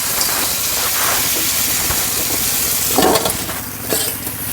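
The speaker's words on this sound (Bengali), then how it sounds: "আমি এক ডাবু গোলা দিয়ে দিলাম" A ladle of patishapta pitha batter poured into an oiled pan gives a loud, steady sizzle and hiss throughout, with a brief burst of scraping or spreading partway through.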